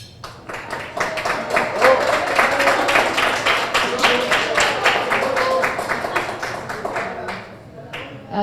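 A conference audience applauds at a civil-society meeting on disability, a dense wash of many hands clapping that swells and holds steady for several seconds before tapering off at the end.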